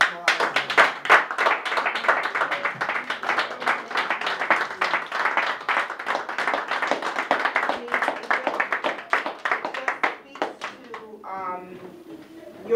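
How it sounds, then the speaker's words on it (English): An audience at a speaker series gives a dense, sustained round of applause for a speaker that runs for about ten seconds, then fades out as a voice begins. "he deserves an amazing round of applause."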